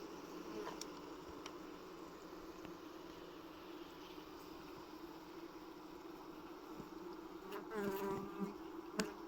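A dense, steady drone of a queenless honeybee colony buzzing loudly fills the air, continuous and close, with a few louder individual buzzes passing near the end.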